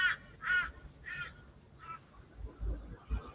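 A crow caws four times outside a house, harsh evenly spaced calls standing out clearly over a low background rumble, followed by faint indistinct noises.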